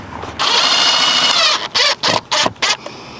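A cordless power drill drives screws to fasten an electrical device into an outdoor box at an RV hookup panel: one sustained whir, then four short trigger bursts in quick succession, loud and close.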